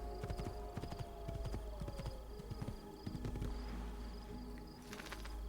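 Horse hooves clip-clop in an Assassin's Creed 2 game scene, a quick repeating trot with a brief whinny-like tone, fairly close and without talk.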